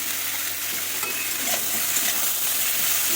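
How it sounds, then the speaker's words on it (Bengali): Chopped ridge gourd stir-fries in a hot pan, giving a steady, dense sizzle with light scraping as it is turned, close and continuous throughout. "আমি সবজি মারি কিন্তু একটু নাড়াচাড়া করতেই হবে তাহলে একটু ভাজা ভাজা হয়ে গেছে"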